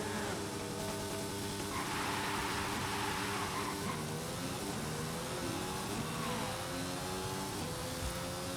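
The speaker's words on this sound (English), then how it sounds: "because we don't have the camshaft upgrade, the engine doesn't rev as high." Mercedes AMG One engine revving in Forza Horizon 5, missing its camshaft upgrade, droning steadily with rising and falling pitch sweeps over about eight seconds, with no talk.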